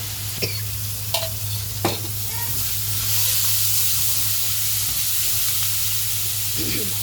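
A few clinks of a spoon stirring in a pan, then a steady, loud sizzle of food frying in oil.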